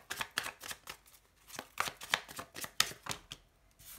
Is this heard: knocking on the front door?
no